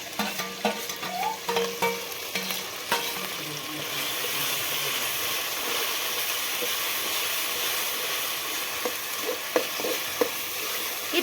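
Masala paste sizzling and hissing in a hot bowl over a wood-fired clay stove while village-style chicken is being cooked, a loud steady fry with scattered stirring knocks near the start and the end.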